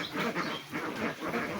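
A farm duck quacks in a repeated, rhythmic run of coarse, nasal calls that sit close and fairly loud over steady background noise, with no talking.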